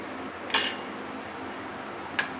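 A spoon stirs potato pieces with red chilli powder and salt in a bowl for chilli potato, making two sharp metallic clinks against the bowl more than a second apart over quiet room tone.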